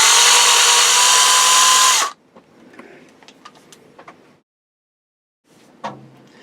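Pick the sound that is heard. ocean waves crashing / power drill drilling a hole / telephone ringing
power drill drilling a hole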